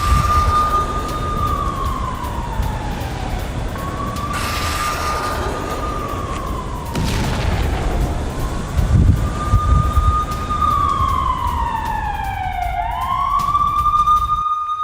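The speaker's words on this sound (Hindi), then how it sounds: "पूरे शहर में बज रहे हैं सायरन।" Air raid sirens wail across a city in Israel during a rocket attack, long rising and falling tones that overlap and repeat in slow sweeps, loud and continuous over a dense rumbling background.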